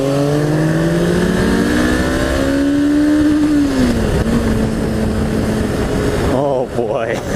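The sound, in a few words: motorcycle accelerating away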